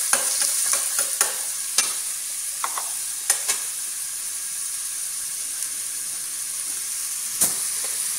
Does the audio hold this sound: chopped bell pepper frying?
yes